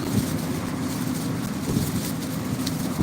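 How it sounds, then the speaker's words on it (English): Strong wind buffeting the microphone outdoors at a fishing spot, a steady low rumbling roar with gusty swells throughout and no voices. "It's just real windy out here today, but the breeze feels good."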